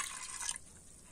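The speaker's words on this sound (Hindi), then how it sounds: "अब इसमें पानी ऐड करेंगे हम।" Water poured from a bowl onto toor dal (pigeon pea lentils) in a cooking pot, a brief faint splash that fades out within a second.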